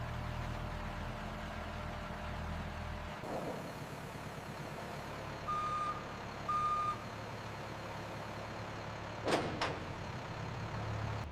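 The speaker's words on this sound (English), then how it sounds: "The truck backs the trailer inside with careful precision. Reverse beepers chirp steadily." A truck backs a trailer into a hangar: low engine rumble fades early, then two clear reverse beeps sound mid-clip, followed near the end by a short, sharp hiss like an air brake.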